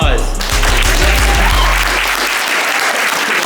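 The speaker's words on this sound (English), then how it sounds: "Hey, let's get another round of applause." Crowd at an airsoft championship gives a loud, close round of applause with cheering over a low tonal hum, dense clapping that carries on for a few seconds.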